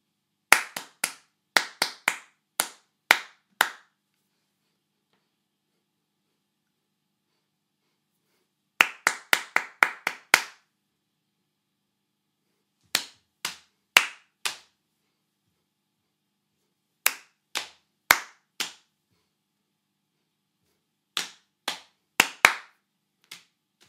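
Hands clapping a rhythm read from a graphic score: groups of sharp, close claps separated by silent gaps, including a quick burst of eight or so near the ten-second mark and shorter clusters of three to five later, with no voices.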